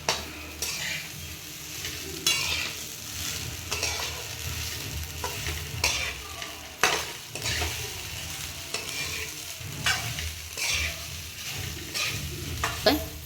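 Sabudana khichdi is stirred and sautéed in a pan, with a soft frying sizzle under repeated close scraping strokes of a spoon, some sharper than others, continuing steadily.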